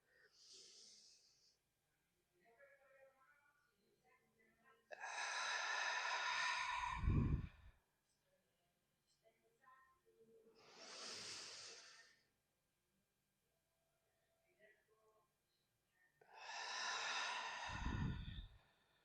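Slow, deep breaths during a gentle yoga flow: three long, loud airy exhales, each several seconds long and ending in a low breathy rush, separated by quieter inhales, close to the mic with no talking.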